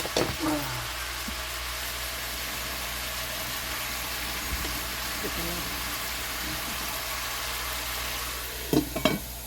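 Bacon fries in a pot over a fire outdoors, with a steady broad sizzle and occasional stirring scrapes, while an engine idles in the background.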